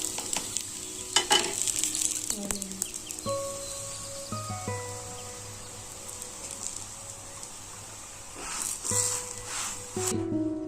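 Desi ghee spread on a makki roti on a hot griddle gives a soft, steady sizzle. Light scraping and stirring clatter runs over it, and faint insect-like chirps sit in the background.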